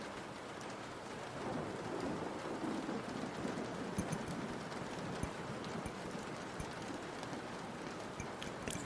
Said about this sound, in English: Isn't the rain relaxing?